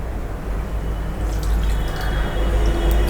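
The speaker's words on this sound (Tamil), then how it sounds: "ஒரு அரை டம்ளர் வந்து தண்ணி விட்டுக்கலாம்" Water pours steadily into a pressure cooker holding seasoned mutton for dum biryani, a continuous close splashing fill over low background hum.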